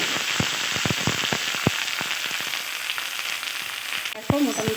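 Ginger paste, cumin and dried chillies fry in a pan for a chhana bora curry, a dense sizzling crackle with scattered pops and scraping stirs, close and steady, ending with a brief clatter.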